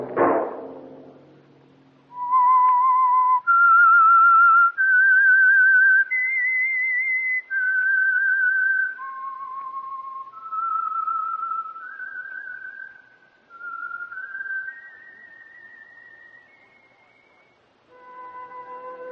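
A thud, then a clear whistled melody of sustained, sliding notes, loud and close, with no other sound behind it.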